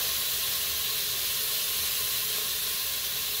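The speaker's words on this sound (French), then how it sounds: "je vais les faire revenir congelés" Frozen food dropped straight into a Cookeo electric pot to fry, giving a steady, loud broadband sizzle and hiss that holds constant throughout with no voices.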